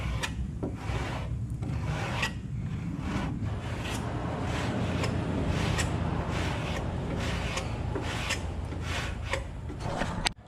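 Hand block sanding body filler on a truck: a steady, loud rasping scrape with rhythmic back-and-forth strokes, close and continuous with no speech.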